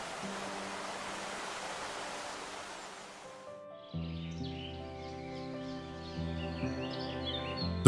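Waterfall and year-round flowing stream in a steep-cliffed limestone valley in Henan, a steady broad rush of falling water for several seconds, then a softer flow beneath faint tonal background and possible bird calls.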